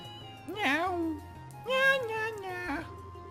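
Three distinct meows from a cat in the video game Trails in the Sky SC, clear and close, with a steady low background hum underneath.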